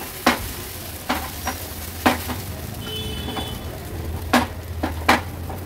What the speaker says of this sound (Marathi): आता ह्या पॅन मध्ये पुन्हा आणखीन एक घावणा आपण सोडूया।